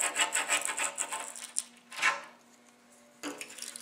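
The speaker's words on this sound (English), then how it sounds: "And just start scraping it off." A razor blade scraping residue off a car windshield: rapid rasping strokes in bursts, close and fairly quiet, with pauses between passes.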